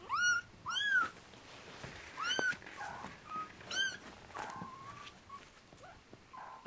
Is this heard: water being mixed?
no